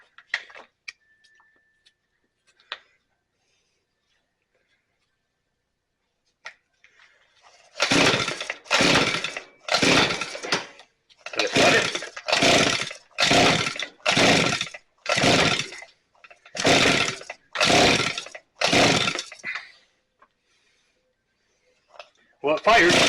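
A Shindaiwa T230X two-stroke weed trimmer engine fires while choked, giving a loud, close series of about a dozen short sputtering bursts separated by brief gaps, after a quiet stretch with a few light clicks.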